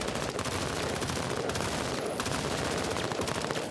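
Rapid gunfire in the video game Menace, dense overlapping bursts of automatic shots rattling continuously at close range with no pauses.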